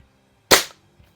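A Crosman Summit air rifle fires a single sharp, loud crack up close, which decays quickly into near silence.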